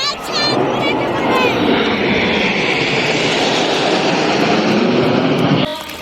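Indian Air Force fighter jets fly over in formation during a Republic Day rehearsal display, a loud sustained roar filling the whole span before cutting off near the end, with faint voices at the start.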